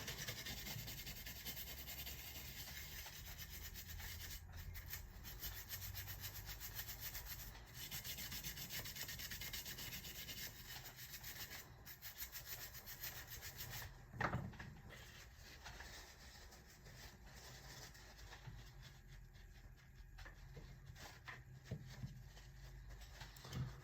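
A metal part is scrubbed clean with solvent during a restoration, producing continuous soft rubbing and scraping close by but very quiet, with occasional light knocks.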